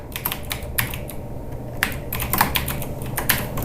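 Steady typing on a computer keyboard, rapid irregular key clicks with occasional louder taps, close and continuous with no talking, as text is entered during an Adobe Illustrator vertical type tool demonstration.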